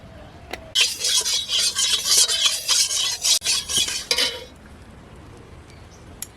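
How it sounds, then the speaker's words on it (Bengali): Vegetables hit hot white oil for homemade chow mein noodles, bursting into a loud, close sizzling hiss with scraping stirs for a few seconds before falling back to quiet. "নুডলস বানানোর জন্য সাদা তেল দিয়ে আমি এই সবজিগুলোকে ভেজে নেব।"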